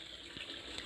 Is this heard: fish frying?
no